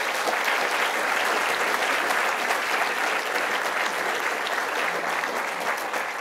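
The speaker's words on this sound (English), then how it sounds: "Big round of applause for all of them." An audience gives loud, dense applause for a panel of speakers, sustained even clapping throughout with no pause.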